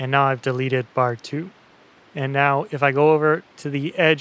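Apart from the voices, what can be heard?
No everyday noises stand out.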